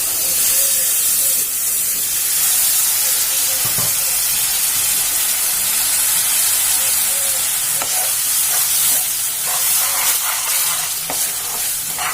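Milk hits a hot pan of halwa and erupts into a loud, steady steamy hiss and sizzle, continuous and close with faint stirring clinks, no voices.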